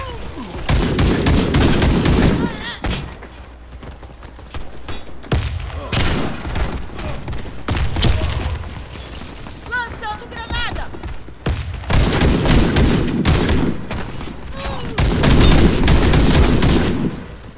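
Rapid gunfire and shotgun blasts in the Warface video game come in loud bursts separated by quieter gaps, with someone talking over parts of the action.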